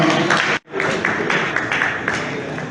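An audience at a pharmacists' order anniversary ceremony applauds the honorary dean, with steady dense clapping that breaks off briefly and then resumes and continues evenly.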